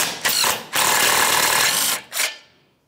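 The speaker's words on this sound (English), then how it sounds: "Now we'll finish removing our final mounting nut that we had loose." A ratchet wrench removes a bumper impact absorber mounting nut on a 2012-2018 Nissan Altima, two bursts of fast clicking ratcheting separated by a short gap, close and loud, ending abruptly.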